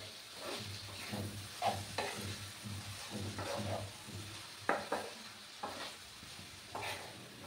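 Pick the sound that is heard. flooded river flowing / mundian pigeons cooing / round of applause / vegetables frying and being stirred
vegetables frying and being stirred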